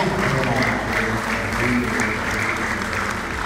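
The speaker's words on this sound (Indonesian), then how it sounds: "Tepuk tangan dulu untuk" An audience claps for the participants at an anniversary celebration and iftar gathering, dense continuous applause filling the room, loud and close, with a low murmur of voices underneath.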